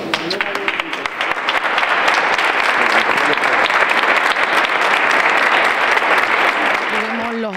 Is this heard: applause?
yes